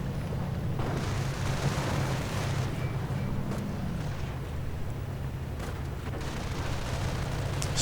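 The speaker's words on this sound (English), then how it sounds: "Sticky bomb going off on the Bergtiger." A sticky bomb goes off on a Bergtiger tank in a World War II video game. A dense, rumbling explosion roar fills the whole stretch, loud and continuous, with crackling debris over a heavy low-end boom.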